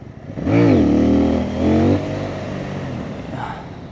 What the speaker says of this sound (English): So this was pretty much full gas